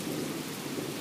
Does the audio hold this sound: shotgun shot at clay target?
no